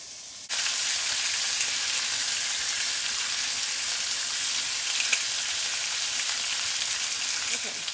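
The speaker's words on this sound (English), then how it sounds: "I'm going to throw a few pieces of bacon on first" Regular bacon strips fry in a hot pan with a dense, even sizzle that starts abruptly and holds steady throughout, close and loud, no talk.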